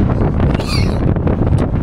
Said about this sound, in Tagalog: Natatakot ako dito mga man kasi sobrang lakas ng hangin